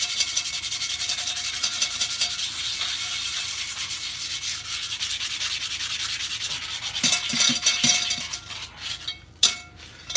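Steady, harsh scrubbing scrapes rust off the bottom of a cast iron Dutch oven in continuous close strokes, breaking into a few clinks and knocks near the end.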